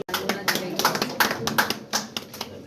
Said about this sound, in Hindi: उनका भी जोरदार ताली बजाकर स्वागत करें।